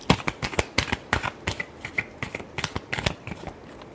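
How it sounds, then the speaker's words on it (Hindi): Tarot cards being shuffled by hand, a quick run of crisp riffling slaps and flicks in an uneven rhythm, close and fairly loud, with no voices. "Last shuffle."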